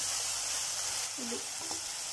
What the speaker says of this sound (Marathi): आता टमाटे वापरून तर पाण्याचा आवाज येतो तोपर्यंत आपण मसाला परतत राहायचा आहे